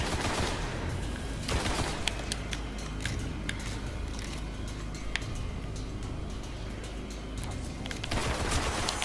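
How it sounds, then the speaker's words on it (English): Rapid automatic gunfire rattles on in Destiny video game combat, bursts of dense shots with sharp cracks, including an enemy's head bursting on a headshot, over a continuous battle din, no voices. "There you go. Head explosion."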